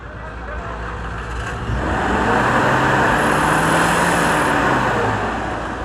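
A car on a freshly cut mountain road grinds its engine upward after skidding backward, a loud sustained roar that swells midway as it strains, with voices talking over it.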